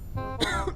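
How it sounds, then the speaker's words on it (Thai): A single short cough from a character in the zombie survival game Quarantine Zone, quiet and throaty, lasting under a second. "อันนี้เสียงไอ"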